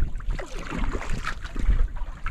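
Paddle strokes pushing a small sailboat, mast lowered, into a 12-knot headwind, with water sloshing against the hull and steady wind rumbling across the microphone.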